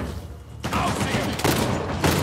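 Gunfire in the action game Uncharted: The Lost Legacy: a sudden volley of loud, close shots bursts after a quiet start and continues in rough, overlapping bangs.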